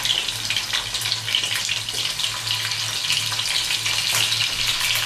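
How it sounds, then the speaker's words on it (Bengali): Chicken pieces, legs and breast, frying in hot oil in a kadai, giving a loud, steady sizzle with no talk. "এটা একটু ভাজবো, খুব ভালো করে চিকেনটাকে"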